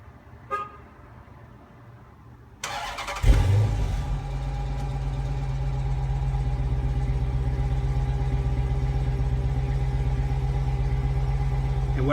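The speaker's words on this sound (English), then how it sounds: "this is my 2013 Chrysler Srt8 flowmaster mufflers instead of resonators, and the regular stock suitcase mufflers" A 2013 Chrysler SRT8 with Flowmaster mufflers in place of the resonators and stock suitcase mufflers starts up with a short toot, then settles into a loud, deep, steady rumble close by.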